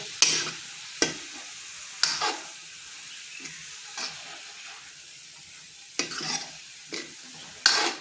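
Carrots and fenugreek leaves cooking in a pan, with a soft background sizzle and repeated sharp scrapes of a spoon stirring the vegetables, some spaced about a second apart and others further apart, heard close and without speech.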